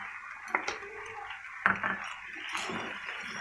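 A spoon stirs mayonnaise and ketchup into a macaroni samosa filling, giving a few close, distinct clinks and scrapes against the bowl over soft, steady background noise.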